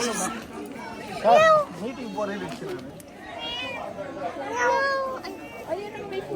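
A cat meows a few times, short rising and falling cries, amid nearby chatter and people talking in Zhangjiajie, Hunan, China.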